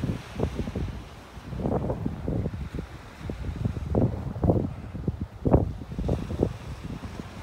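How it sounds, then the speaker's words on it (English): Wind gusts buffet the microphone on the beach at Wiggins Pass in North Naples, Florida, a low rumbling roar rising and falling in uneven bursts throughout, with no one speaking. "Definitely much windier out here."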